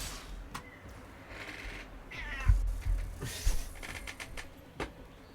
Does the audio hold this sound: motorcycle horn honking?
no